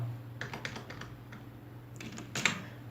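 Keys tapped on a computer keyboard while entering text in a design program, a few soft close clicks in short bursts with a pause, then a brief flurry of sharper keystrokes, quiet and without talk.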